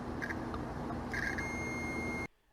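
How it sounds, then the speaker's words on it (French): A multimeter gives a thin, steady continuity beep while testing the contacts of a high-pressure switch. It sounds about a second long, quiet under faint background hiss, and stops abruptly. "on peut entendre donc le bip du multimètre qui prouve que les contacts 1 et 2 sont passants"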